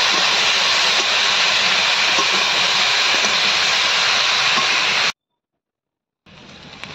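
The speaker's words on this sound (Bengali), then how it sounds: "তবে তখন সবজিগুলো সাথে কিছু করে ভালো করে কড়াইতে ভেজে নেওয়া হচ্ছে" Mixed vegetables frying together in a wok (kadai) over a village cooking fire give a loud, steady sizzling hiss, then a sudden cut to silence and a quieter return of the hiss.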